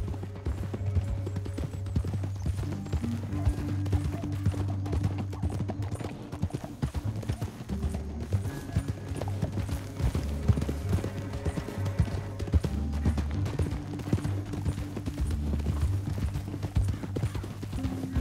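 Several horses moving in Red Dead Redemption 2, hooves clip-clopping in a steady, continuous rhythm close by, with an occasional snort or whinny over a low rumbling background.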